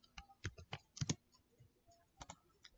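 Keys clatter on a computer keyboard while a Spring Boot server port setting is typed for Docker deployment on AWS EC2, with quick irregular bursts of clicks close up and quiet gaps between.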